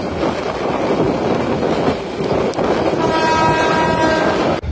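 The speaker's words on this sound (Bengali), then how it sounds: "আমাদের ট্রেনটি এখন ঢাকা বিমানবন্দর রেলওয়ে স্টেশন প্রবেশ করলো" The Titas Commuter train rolls into Dhaka Airport railway station with a loud, steady rumble of wheels and carriages, and a horn sounds briefly near the end.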